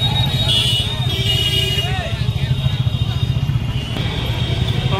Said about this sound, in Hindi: कितना भीड़ भाड़ चल रहा है, गाड़ी घोड़ा चल रहा है कितना